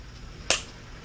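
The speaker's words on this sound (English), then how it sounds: "let's not make that clapping sound" A single sharp clap of hands on a lap, close and brief, over a quiet background.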